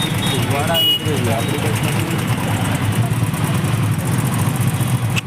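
Dense Mumbai traffic rumbles close by, with idling engines and motor noise holding steady and loud as a voice talks over it.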